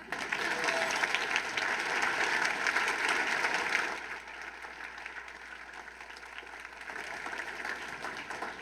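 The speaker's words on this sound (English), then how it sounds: "and now is a good time to clap." Applause from a dinner audience at a community friendship dinner, a steady dense clapping that fills the room for about four seconds before easing into quieter scattered claps and room murmur.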